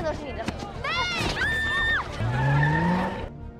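A car skids during a kidnapping scene in a film, a low rising tire squeal standing out near the end amid swooping music-like tones and brief voices.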